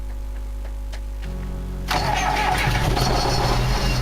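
Tractor engine in Farming Simulator 2011 cranking with a starter whir, then catching and settling into a loud, steady idle rumble, close and alone with no talking.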